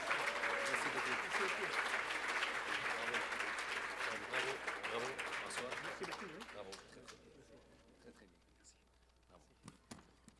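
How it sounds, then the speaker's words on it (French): Audience applause at a Montreal wine tasting event, a loud sustained wash of clapping that gradually fades away, leaving a few scattered claps at the end. "S'il vous plaît, une bonne main d'applaudissements pour François, Alexandre et Michel Faneuf."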